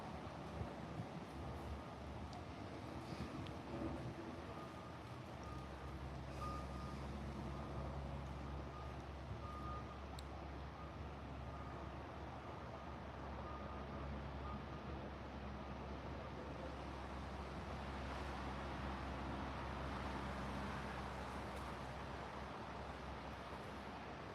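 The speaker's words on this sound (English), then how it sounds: "think the truck just started beeping again" Faint, regular reversing beeps from a truck in the distance over a steady low engine and traffic rumble.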